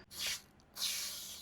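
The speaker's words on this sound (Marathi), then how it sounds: "मारायच्या आधी शेक करूया आणि स्प्रे करूया. तर ह्याचा स्प्रे बघा फोम टाईप आहे." Two bursts of Vista foam tyre shine from an aerosol can, a short hissing spray followed by a longer sustained one, close and fairly loud with no talking.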